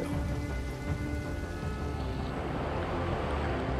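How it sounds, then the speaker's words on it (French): Heavy rain pours steadily during the September 2020 storm at Saint-Martin-Vésubie, a dense, continuous roar of water with faint low rumbling beneath, loud and unbroken throughout. "Alors que la pluie s'intensifie"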